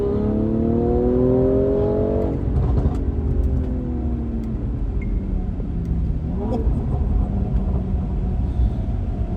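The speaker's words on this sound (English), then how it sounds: "That straight 6 is such a brilliant engine." BMW M340i straight-six engine with a manual gearbox in sport mode, accelerating hard with rising revs, a gear change, then building again, heard loud from inside the cabin.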